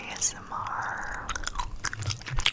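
Gum being chewed close to the microphone makes soft, wet smacks and clicks in an irregular rhythm in a quiet room, with a faint whisper in places.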